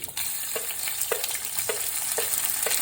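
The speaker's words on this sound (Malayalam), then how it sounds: "ഇത് മൂന്നും കൂടി അതിനകത്തോട്ട് ചെറുതായിട്ടൊക്കെ ഒന്ന് വഴറ്റി കൊടുക്കുക" Garlic, ginger and slit green chillies sauté with curry leaves in hot oil in a pan, a steady close sizzle broken by regular scraping stirs.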